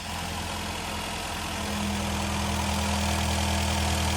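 A Ford Fiesta Mk3 engine idles on half choke, a close, steady, smooth hum that grows slightly louder partway through, with no talk.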